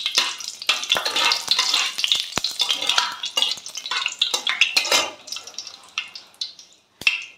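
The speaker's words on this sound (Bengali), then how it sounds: "তেল গরম হয়ে গেছে, শুকনো লঙ্কা দিয়ে দিলাম ফোড়ন" Dried red chillies are dropped into hot oil as a tempering, giving a steady close sizzle and crackle with sharp spitting pops and small clatters over about seven seconds, fading near the end.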